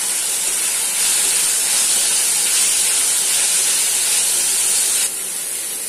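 Vegetables sauté in a hot pan with a loud, continuous close-up sizzle that drops slightly in level near the end.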